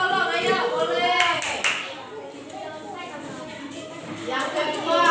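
Third-grade children in a classroom clap their hands in short bursts of sharp, fairly close claps, with a teacher and children talking around and between them.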